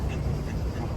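A duck quacks at the Grand Canal in Venice, a short close call heard beneath people talking.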